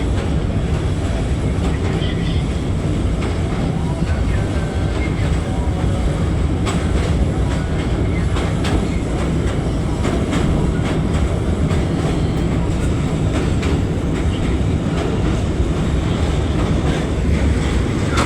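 Passenger train bound for Sylhet running along a railway beside a river bridge, heard from another train as a loud continuous rumble with rapid clickety-clack of wheels.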